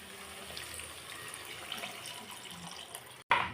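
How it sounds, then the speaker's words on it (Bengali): Water poured from a small container into fish curry cooking in a pan: a steady, soft splashing pour, then a brief break and a louder gush at the end. "এটার মধ্যে অল্প করে জল দিয়ে দেবো।"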